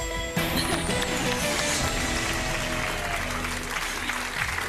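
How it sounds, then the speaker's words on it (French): Loud studio audience applause for contestants on a French TV game show erupts abruptly and continues as a dense, sustained clapping wash throughout. "Les applaudissements."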